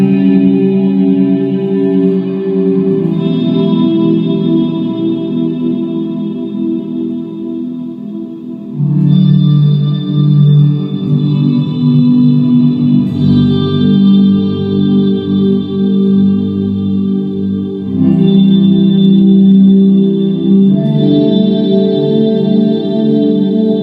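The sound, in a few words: guitar through zcat pedals Big Reverb pedal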